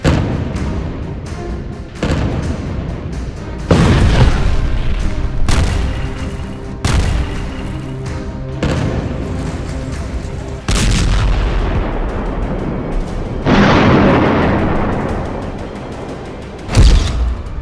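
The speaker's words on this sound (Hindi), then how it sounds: "गाजा पट्टी में हो रही बमबारी ने पूरे अरब वर्ल्ड को बारूद के ढेर पर बैठा दिया है।" Bombing in the Gaza Strip: a series of heavy, booming explosions and thuds, loud and close, each blast followed by a rumbling decay, with no speech.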